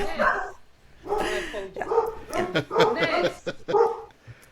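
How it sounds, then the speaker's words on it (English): Several dogs in a household barking in repeated bursts, mixed with yips and whimpers, loud and close, with a voice talking over the barking. "right now, is not a moment of quiet for the dogs in Sarah's household."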